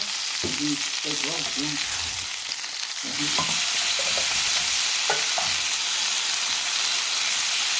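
Wagyu and Angus top sirloin steaks sear in a pan with a loud, continuous sizzle that swells after a few seconds and keeps crackling steadily to the end.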